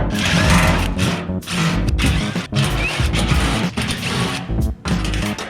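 Tools working loose the screws on an RTU rooftop unit's blower housing give short bursts of clattering, grinding mechanical noise, loud and close, broken by brief pauses.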